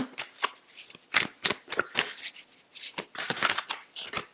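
Tarot cards being shuffled and drawn, close, crisp riffling and slapping bursts in quick irregular clusters with short gaps, no talk.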